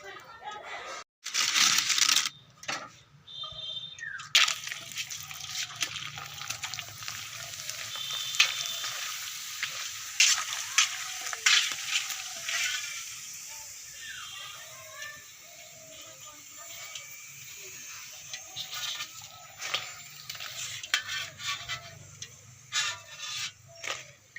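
Homemade papad made from besan and flour sizzles and crackles in hot oil in a tin, a continuous close frying hiss with bursts of spitting, while a rooster crows in the background and a voice talks intermittently.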